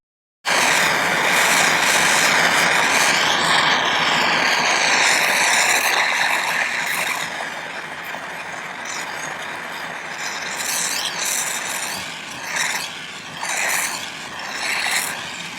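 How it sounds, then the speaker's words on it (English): A torch flame soldering silver: a loud, steady roaring hiss that starts abruptly and holds close and unbroken, its texture wavering slightly toward the end, no talk. "now I'm going to solder this one on"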